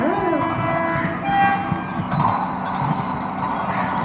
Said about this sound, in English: So for luck, there's a train coming in.